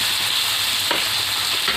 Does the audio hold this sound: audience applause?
no